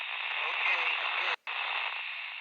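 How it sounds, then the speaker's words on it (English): Scratchy transmission on a two-meter handheld radio, a steady hiss of broadband static with muffled, barely intelligible speech underneath, briefly cut off once mid-transmission before resuming. "You're really scratchy. I can barely make you out."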